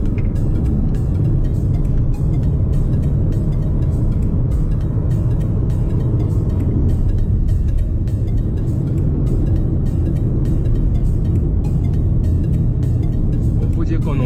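A car in sport driving mode on a city street, its engine giving a loud, steady, close low rumble throughout, with someone talking over it.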